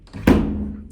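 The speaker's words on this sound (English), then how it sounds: "I will turn off this light and also close this door" Close, single dull thud of a door being shut in a room at a darkness retreat in Guatemala, with a brief ringing decay afterward; no separate light-switch click stands out.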